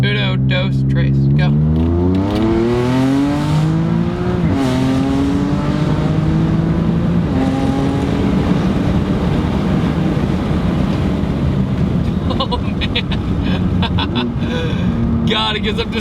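BMW M3 with the S55 engine accelerating hard from a launch, its loud exhaust note climbing steadily in pitch through the gears, close and continuous throughout.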